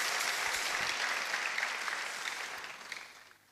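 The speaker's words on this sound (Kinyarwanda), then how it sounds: "Ngiye no gusaba iteraniro duha Imana amashyi menshi." A church congregation claps together in sustained, even applause that gradually tapers off and fades near the end.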